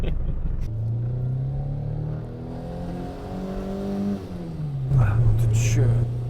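Renault Twingo (first generation) engine droning steadily while driving, with a low hum rising and falling through revs, a brief dip then a louder surge near the end, heard from inside the car.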